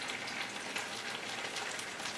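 Corn fritters fry in oil in a pan with a steady, close crackling sizzle that holds at an even level throughout, with no voices.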